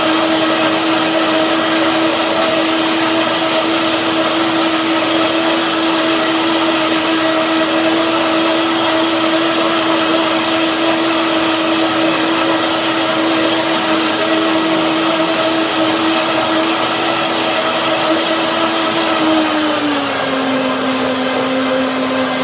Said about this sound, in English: So first blending now, blender dance.